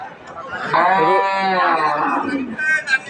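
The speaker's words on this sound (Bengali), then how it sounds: "দেখানোর চেষ্টা করছি গাভী এবং বাছুর।" A cow lowing among cows and calves at the Ambari cattle market in Dinajpur: one long, loud, close moo rising and holding, with market chatter behind it.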